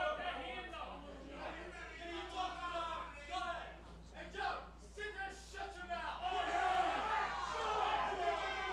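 A wrestling crowd at a Monster Factory show cheers and shouts for Brett Waters, a rising and falling mass of voices that swells near the end, with a commentator talking over the noise.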